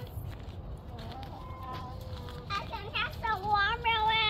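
A pet chicken clucks and calls amid outdoor background noise, its calls growing louder and more frequent toward the end while children's voices chatter nearby.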